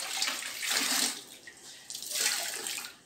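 Running water, as from a tap, soaks a cleaning cloth in a home cleaning session, coming in two soft splashing bursts with a brief lull between them and no voices.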